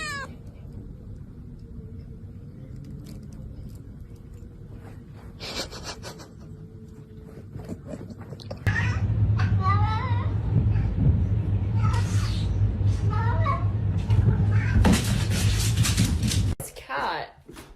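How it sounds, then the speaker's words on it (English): A house cat meows a few times amid home-video chatter, with people talking and reacting around it, the calls short and fairly close, partly under the voices. "Cat."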